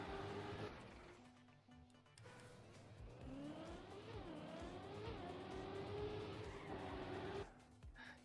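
A race car in a racing video game accelerates and brakes, engine revs climbing and dropping with gear shifts and tire noise, fairly quiet and continuous.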